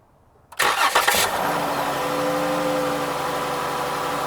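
A car engine cranks briefly on an AP6 jump starter, catches and settles into a steady idle, close and fairly loud, with no talking.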